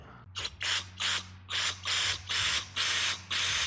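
Short bursts of aerosol cleaner hiss through a Troy-Bilt Storm carburetor, about seven sharp sprays in a regular rhythm separated by brief pauses, close and loud.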